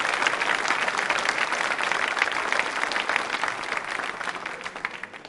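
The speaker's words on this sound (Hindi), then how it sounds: "तालियां एक बार फिर बजनी चाहिए उनके सम्मान में।" Audience applause at a quiz show, a thick, continuous wash of many hands clapping at close range, holding steady before easing off slightly at the end.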